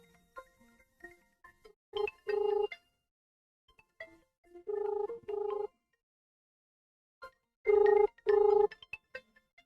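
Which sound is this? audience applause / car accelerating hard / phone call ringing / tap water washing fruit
phone call ringing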